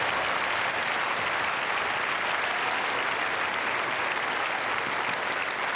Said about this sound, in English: The applause is pretty vehement, though